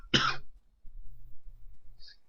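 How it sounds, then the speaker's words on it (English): A single sharp cough from a person who still has a lingering cough, close and loud, followed by quiet low rumbling and a faint high blip. "Yeah, I still have that cough."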